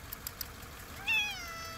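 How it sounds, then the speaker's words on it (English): A cat gives a single short meow, fairly quiet and near, after a moment of soft background noise. "a little kitty cat"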